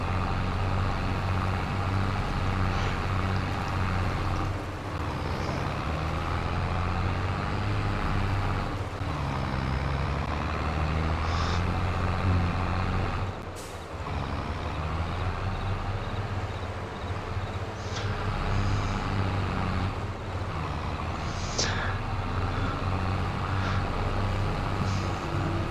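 A vehicle driving in Farming Simulator 22, a continuous droning engine with low rumble and a few brief mechanical clunks and hisses, steady for the whole stretch with no talking.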